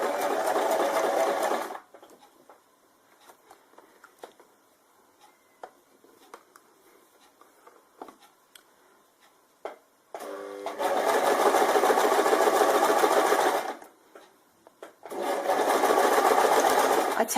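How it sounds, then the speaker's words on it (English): A sewing machine stitching binding in loud, fast, steady bursts, one at the start and two more later, with quiet handling clicks and rustles in between. "then we can start to sew on through"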